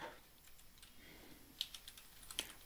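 Soft keystrokes on a computer keyboard while writing code for a Streamlit widget, a few faint scattered clicks over low background hiss, no one speaking.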